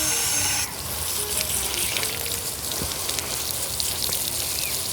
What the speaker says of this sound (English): So now I'm just rinsing off these roots.